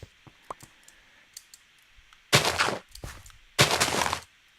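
A giant mutant creeper from a Minecraft mod lands and sets off two loud, crackling bursts of game explosion noise, each lasting about half a second, after a scatter of small clicks.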